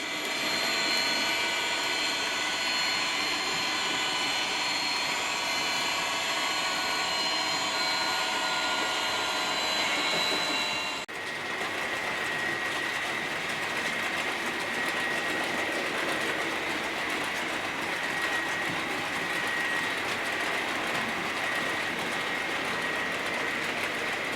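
A Bachmann Class 570 model locomotive, number 57007, pulls coal wagons around a layout with a continuous whirring motor drone and rail rumble. The tone shifts partway through, then settles into a steadier hum.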